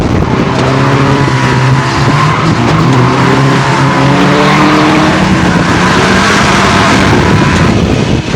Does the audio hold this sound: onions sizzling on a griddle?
no